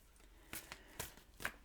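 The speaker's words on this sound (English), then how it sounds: "I'm going to shuffle and deal you an Angel Oracle card." Angel Oracle cards being shuffled by hand, three soft riffling bursts, quiet and close.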